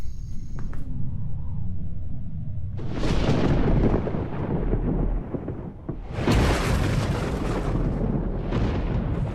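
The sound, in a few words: thunderstorm thunder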